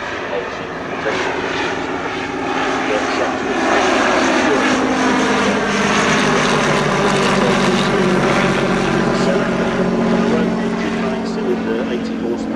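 A Bristol Scout biplane with an 80 horsepower rotary engine flies at a vintage airshow, its steady propeller drone loud and continuous throughout, with a faint rising-and-falling pitch as it passes.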